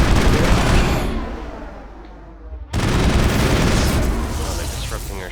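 Gunfire in the Mass Effect video game rattles as dense, loud bursts that thin out, cut briefly to near silence, then return sharply, with rumbling explosive tails and talk faintly underneath.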